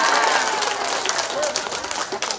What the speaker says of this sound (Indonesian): Ini jalan, tepuk tangan lah dulu.